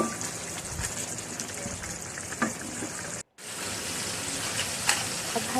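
Mutton korma frying in oil in a pan, a steady crackling sizzle with faint stirring clicks, briefly cut by a short gap of silence midway.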